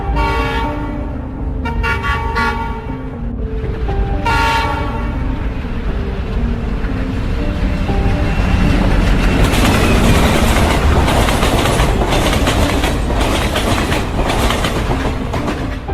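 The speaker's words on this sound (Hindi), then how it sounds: "और तभी अचानक से गुल्ली बुल्ली और सोन को ट्रेन की आवाज सुनाई देने लग जाती है" A train pulls into a station, its horn blaring in repeated loud toots over a heavy, continuous rumble and the clatter of wheels on rails growing louder.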